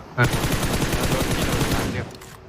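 A loud, sustained burst of rapid automatic gunfire, rattling continuously for about two seconds before stopping abruptly.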